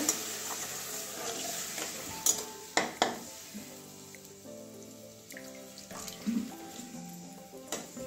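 Water poured into a pan of cooked-down spice masala for a pointed gourd dorma curry, a soft sizzle and gurgle with a few sharp clinks of a utensil against the pan, close and fairly quiet.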